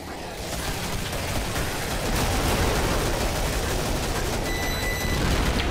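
Rocket and grenade blasts boom through a Killing Floor match as a continuous rumbling barrage of muffled explosions and gunfire, loud and sustained with no clear pauses.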